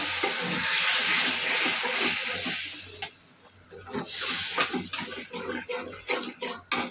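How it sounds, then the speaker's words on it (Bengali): Spice masala of chili, turmeric and cumin powders with a splash of water cooks down in a pan, a loud steady hiss at first, then choppy sizzling bursts and scraping as it is stirred. "মশলাটা কষিয়ে নিই"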